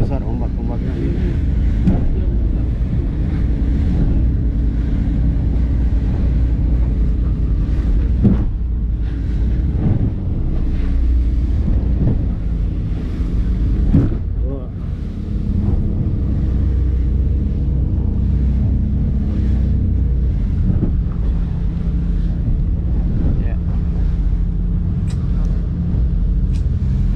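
Heavy wind buffeting the microphone over a constant low roar of big sea waves and a running boat engine at sea between Waisai and Sorong, with a voice speaking now and then.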